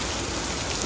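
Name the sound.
rain falling at Genting Highlands, Malaysia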